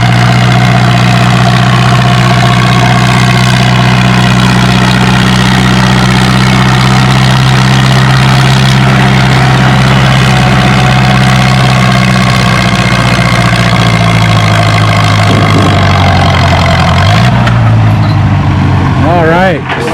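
A McCormick W14 pulling tractor runs at a pulling event in Othello, Washington, its engine idling with a loud, steady, heavy low rumble that slowly shifts pitch near the end, with talk over it.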